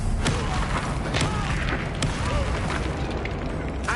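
An Incendio fire spell erupts in Hogwarts Legacy as a sustained, roaring blast with repeated booming bursts and sharp pops layered over a dense rumble, loud and unbroken throughout.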